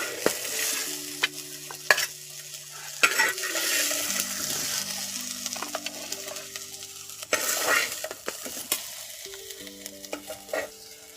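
Masala for a wild fig (attikayi) gravy frying in a pan while being stirred, a continuous close sizzle broken by repeated scraping strokes of the spoon, no talking.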